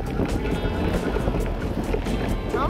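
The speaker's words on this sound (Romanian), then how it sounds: "Mamă, dar bate vântul!" Strong wind buffets the microphone in a steady, roaring rush out on the water during a fishing trip, with low rumbling gusts throughout.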